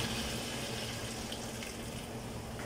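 Water pours steadily into a cooking pot for chicken pininyahang manok, a faint continuous splashing rush from a tap with no voices.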